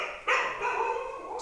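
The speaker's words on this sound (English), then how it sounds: "That's my dog." A dog barks indoors in a home setting, one sharp bark followed by a drawn-out yelping whine, fairly close and clear with no talk over it.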